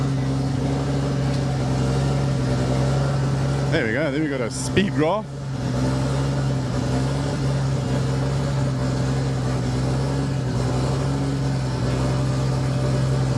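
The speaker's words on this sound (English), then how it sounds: "That noise in the background is Wade's car that's just started." A race car's engine idles with a steady low drone in the background at the Simola Hillclimb, continuous throughout, while someone talks over it.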